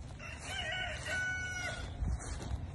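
A rooster crows once in a long drawn-out call, fairly near, with a low rumble of background noise underneath.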